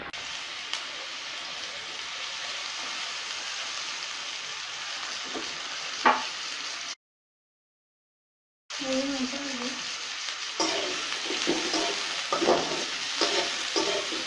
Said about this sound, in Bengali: পরিমাণ মতো তেল দিয়ে পেঁয়াজগুলোকে ভালোভাবে নাড়তে হবে।